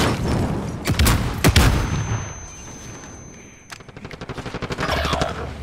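Gunfire in Call of Duty: Modern Warfare: a few heavy close shots early, then a rapid rattling burst of automatic fire near the end, loud and without talking.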